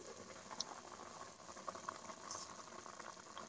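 Rupchanda fish curry simmering in a covered pot on the stove, a soft, steady bubbling murmur that stays quiet throughout, with a few faint clinks standing out.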